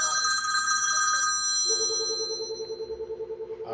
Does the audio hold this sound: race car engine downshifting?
no